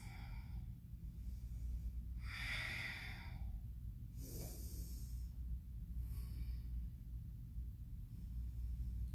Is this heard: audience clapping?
no